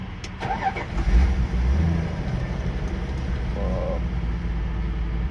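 A 1986 Dodge D100 pickup truck engine cranks and catches, then settles into a loud, rough, rumbling idle close by, with no one speaking.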